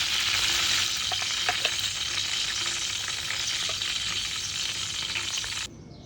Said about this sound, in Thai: เราทอดประมาณนี้ไม่ต้องให้สุกมากนะ